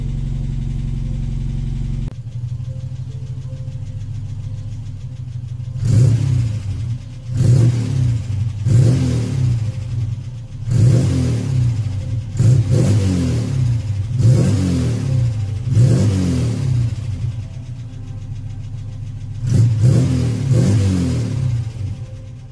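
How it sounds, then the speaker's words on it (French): A Ford Kent Valencia car engine revs repeatedly in loud bursts over a steady idle, with a light rattling clatter, typical of these engines, riding on each rev. "un petit bruit de crécelle, pas d'inquiétude, c'est normal, c'est assez typique de ces moteurs Kent Valencia"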